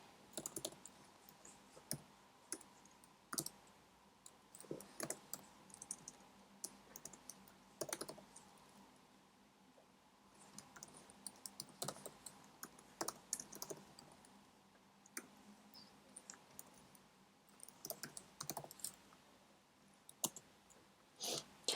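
Code is typed on a computer keyboard: bursts of close, crisp key clicks arrive in irregular flurries separated by short quiet pauses, over a faint background hush with no talking.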